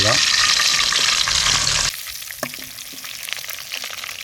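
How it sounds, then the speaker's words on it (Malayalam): Chicken pieces fry for mandi in a pan, a loud, dense sizzle for about two seconds that drops abruptly to a quieter crackle with scattered pops and light clinks. "അപ്പോൾ ചിക്കൻ ഒന്ന് ചെറുതായിട്ടൊന്ന് ഫ്രൈ ചെയ്തേക്കാം കേട്ടോ ചെറുതായിട്ടൊന്ന് ഫ്രൈ"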